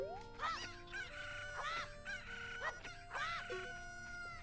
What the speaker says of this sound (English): Is something gonna happen if I kill the chicken?